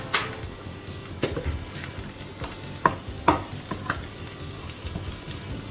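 A spoon stirs spices into beef curry with jackfruit seeds in a hot pan, soft continuous sizzling broken by several scraping clinks of the utensil against the metal.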